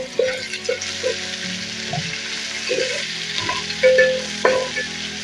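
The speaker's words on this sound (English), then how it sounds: "let me add our ginger and saumu, because our onions are already brown" Ginger and garlic sizzle and fry in a pan of browned onions, a steady close hiss with occasional stirring scrapes and bursts of louder spitting.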